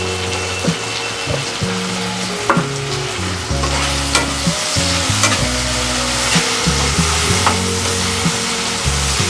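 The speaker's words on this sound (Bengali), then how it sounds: "মশলাটা কষিয়ে নেবো একটু।" Spice masala for chicken curry sizzles loudly in a pan while being stirred, with repeated scraping and clattering strokes over a constant frying hiss and no voices.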